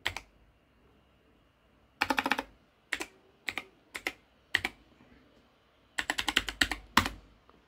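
Router admin password keys tapped on a computer keyboard for a D-Link DIR 1950 setup: close, crisp clicks in short irregular bursts and single taps, with quiet gaps between groups.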